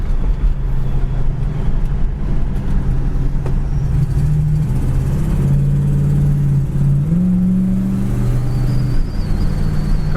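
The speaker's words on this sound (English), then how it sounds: "Kick down on the transmission works good." A 1967 Chevrolet El Camino engine accelerating on the road, a loud, steady low drone that climbs in pitch as the transmission kicks down and shifts, with continuous road and cabin rumble throughout.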